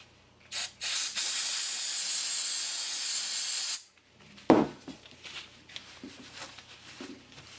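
Brake cleaner hisses from an aerosol can onto a Honda Accord power steering pump in a short burst and then one long sustained spray, followed by quieter handling noises.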